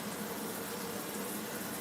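Water from a tap runs steadily over a juicer being rinsed, a continuous soft broadband gush with no talking.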